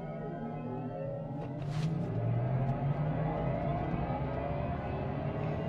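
Mercedes AMG EQS 53 electric car pulls away from a standstill on a sunny day. A smooth synthetic whine rises steadily in pitch over a constant road rumble, heard close with no talking.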